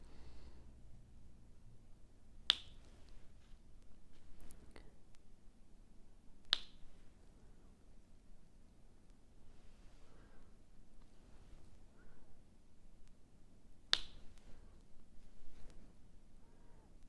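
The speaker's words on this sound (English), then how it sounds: "I love the snapping sound of my glue dot." Three sharp, crisp snaps from a glue pen during diamond painting, spaced a few seconds apart over a quiet background, each a short bright click.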